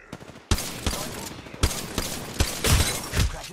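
Gunfire in Apex Legends during a ranked Arenas match: sharp, loud shots and bursts strike repeatedly from close by, trading back and forth in quick clusters over a few seconds.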